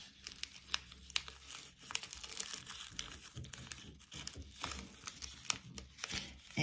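Sheet of paper folded in half by hand, giving soft crinkling and creasing rustles in quick irregular bursts, close and quiet, with no talking.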